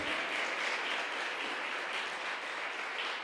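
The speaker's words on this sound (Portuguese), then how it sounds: "Você pode aplaudir o Senhor?" A church congregation breaks into sustained applause, a full, steady roar of many hands clapping throughout.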